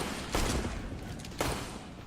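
Counter-Strike gunfire during a pro match on the Train map at the Katowice 2019 final: two short, sharp bursts about a second apart, loud and close over a steady hum of game ambience.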